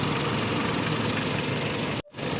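A 2011 Kia Sorento idles steadily with its air-conditioning compressor clutch engaged, a dense broadband engine hum that cuts out abruptly for a moment near the end before resuming.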